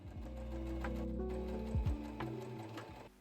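A sewing machine stitches a vest's armhole seam, joining main fabric and lining, its motor whirring close and steady for a few seconds before slowing to a stop.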